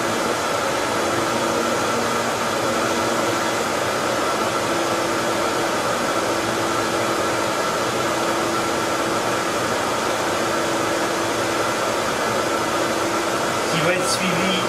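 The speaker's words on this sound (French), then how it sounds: "Actuellement, la machine grave en balayage, donc en mode raster," A laser cutting machine raster-engraving a cardboard trophy gives off a steady, unbroken whirring hum like an extraction fan, with a faint clack near the end.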